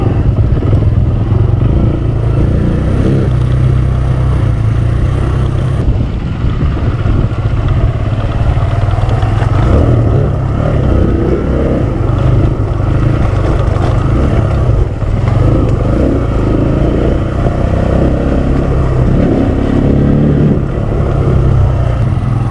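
A Kawasaki KLX 150L motorcycle rides across a river on a trail in Tigbauan. Its engine drones loud and steady throughout, mixed with churning water and clattering, with no talk heard.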